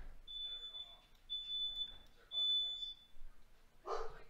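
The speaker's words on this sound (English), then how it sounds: "Your smoke alarm is going off." A household smoke alarm sounds three long, piercing electronic beeps in a row, fairly quiet in the room, with people talking nearby and a brief louder burst of noise at the end.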